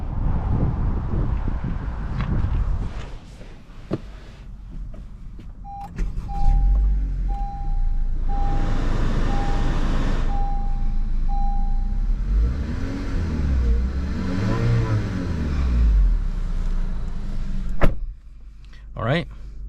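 A 2022 Acura ILX A-spec sedan starts up and drives off, with engine hum, a steady chime, rising revs and road rumble, plus a door or window thump near the end.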